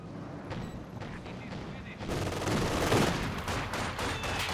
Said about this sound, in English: And then mortar coming in for Asha.